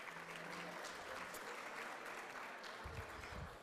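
Audience clapping at an awards night banquet after a prime rib dinner, steady applause across the whole moment with some low thumps near the end.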